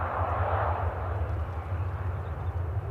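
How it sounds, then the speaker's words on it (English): An airliner taxis in at Manchester Airport with a steady, rumbling jet engine roar, moderately close and continuous, with no voices over it. "I do like being here when you can hear all the various noises as they taxi in."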